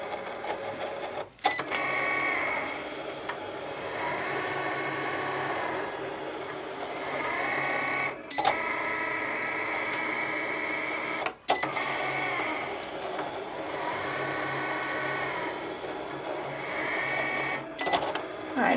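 A Cricut Explore cutting machine cuts small paper circles, its carriage motor whirring and buzzing steadily with a few sharp clicks and brief pauses as the blade changes direction.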